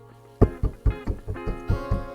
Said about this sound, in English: So that's the sound of the drum that we want.